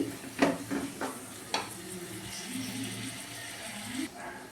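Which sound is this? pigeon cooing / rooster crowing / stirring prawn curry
stirring prawn curry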